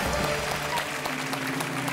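A studio audience claps steadily on a Hindi TV quiz show, a dense, even applause that fills the brief stretch, fairly close and continuous.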